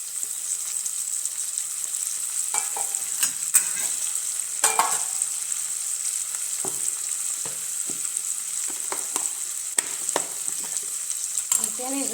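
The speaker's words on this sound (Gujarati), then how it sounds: "હવે આપણે કટિંગ કરેલા ટમેટા હતા તેમાં ઉમેરી દેવાના છે." Chopped tomatoes go into a pan of frying onions for a dhaba-style sev tamatar curry; a steady hissing sizzle runs throughout, punctuated by scattered clicks and scraping stirs from a utensil.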